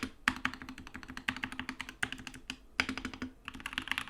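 Brisk typing on a modded SK64 mechanical keyboard, dense clacky keystrokes in an even, rapid rhythm with brief pauses, close and clear with no talk.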